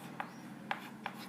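Three short, faint marker or chalk strokes on a board while a truth table is written, evenly spaced and alone against a quiet room background.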